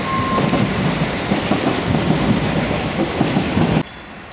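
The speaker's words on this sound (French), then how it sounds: "Nous longeons une voie du RER." An RER commuter train in Paris passes along the tracks nearby, a loud, steady rumble with rhythmic clickety-clack of the wheels that cuts off abruptly near the end. No one speaks.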